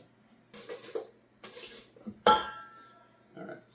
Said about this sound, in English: Then I want to make sure I get all this off the pan.